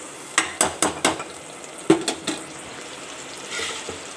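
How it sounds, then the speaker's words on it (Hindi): Ground masala for aloo keema with capsicum fries dry in a pan with no water, with several sharp scraping stir strokes against the metal over a faint sizzle, then a softer hiss toward the end; no one speaks. "मैंने इसमें पानी का इस्तेमाल बिल्कुल नहीं किया और इसको अच्छे से फ्राई करेंगे"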